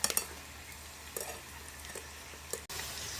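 Bitter gourd pieces frying in hot oil, a steady soft sizzle with a few brief crackling bursts and stirring clinks, close and alone with no voices.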